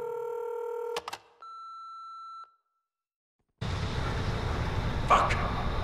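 In the Kane & Lynch 2 video game, a phone is dialed: steady electronic tones and beeps, a sustained dial tone, then a brief pause before loud noisy in-game ambience takes over.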